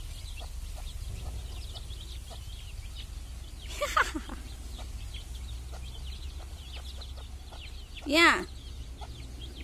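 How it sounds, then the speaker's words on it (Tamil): Village hens make a few scattered clucks and two louder squawking calls outdoors, fairly faint amid background chatter, with a brief spoken word. "கோழி வேணாம்."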